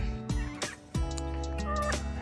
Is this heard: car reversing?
no